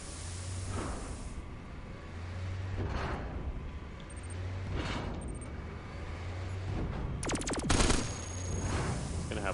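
Heavy cannon fire in the Cogmind video game: repeated booming blasts at steady intervals of about two seconds, followed by a sharper burst of rapid electronic impacts near the end.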